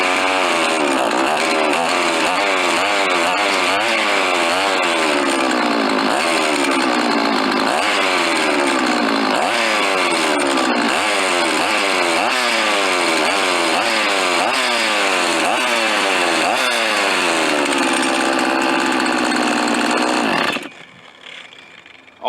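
A chainsaw engine drives a homemade air compressor, roaring loudly and continuously with repeated throttle surges that rise and fall in pitch, then cuts off abruptly near the end.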